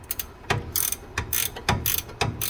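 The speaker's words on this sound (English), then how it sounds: "We're gonna hit these bolts with an 18mm wrench, ratcheting" A ratchet wrench loosens 18mm brake bolts on a Mercedes GLK 350, clicking in short repeated bursts. The strokes come in a quick irregular rhythm, close up and crisp, with no voices.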